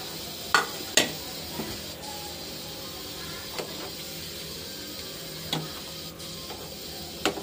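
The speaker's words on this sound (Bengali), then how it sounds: "তো আলুটা আর পনিরটা দিয়ে দিচ্ছি।" Potato and paneer go into a hot kadai that holds hot water. A few soft, close thuds and clunks sit over a steady broad hiss, with no talk.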